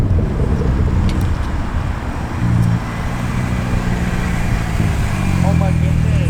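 Road and engine noise from a 400HP Toyota Supra on the move, a steady loud rumble heard from inside the cabin throughout, with someone talking over it.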